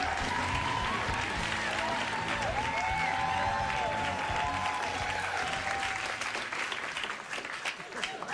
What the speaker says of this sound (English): Don't clap, you'll ruin my concentration. I'm not used to that sound.